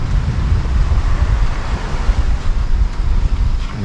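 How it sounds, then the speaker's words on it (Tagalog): Ocean waves and wind at Siruma beach in Camarines Sur, Bicol: a continuous loud roar of surf and gusting wind buffeting the microphone, with no voices. "Karagatan."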